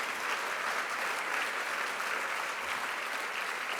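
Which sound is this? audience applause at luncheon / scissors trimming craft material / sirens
audience applause at luncheon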